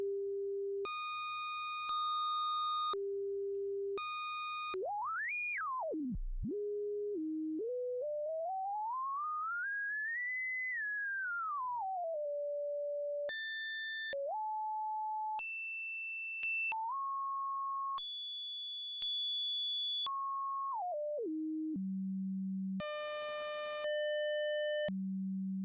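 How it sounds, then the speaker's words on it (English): A synthesized tone glides and steps through changing pitches, shifting between smooth sine, buzzy saw and hollow square timbres, steady and electronic with no voices. "It's cycling from a sine wave to a kind of a saw wave to a square wave."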